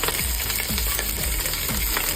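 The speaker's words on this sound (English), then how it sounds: "sear the lamb shanks" Venison shanks sear together in one big pan after being patted dry, giving a steady close sizzle with faint scraping or stirring knocks recurring throughout, no voices.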